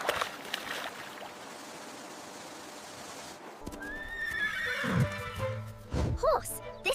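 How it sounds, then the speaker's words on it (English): A horse lets out a loud, close whinny that rises and then breaks into shaky bursts, following a stretch of steady water-like noise and hoof clops. "Horse. This is a horse."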